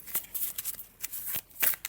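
A deck of square oracle cards is shuffled by hand close up, giving a quick series of soft riffling, papery flutters in irregular bursts, fairly faint with no talking.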